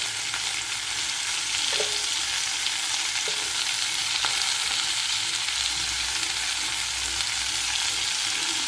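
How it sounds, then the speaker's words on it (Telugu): Spice mixture with ginger garlic paste frying in a pan for gutti vankaya curry, a steady dense sizzle throughout with faint stirring scrapes, close and alone. "ఇప్పుడు ఈ మిశ్రమం వేగుతూ ఉంటుంది కదా"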